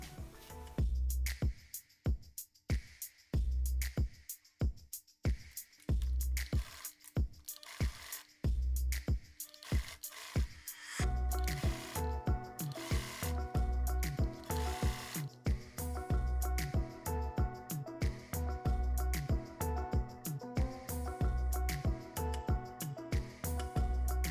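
Sewing machine stitching ribbon over guipure lace to form a new hemline, steady rapid needle thumps in close, loud runs, first slower and spaced, then a faster continuous burst, with no talking.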